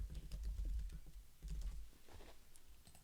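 Typing on a computer keyboard at a desk during graphic design work, bursts of close, crisp key clicks in two quick clusters with a quieter tail, no voices.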